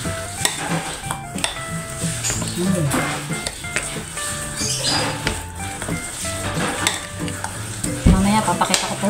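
A spoon stirs and scrapes through taro ube cake batter in a bowl, giving repeated soft swishing and clinking strokes close by, mixed with other kitchen clatter throughout.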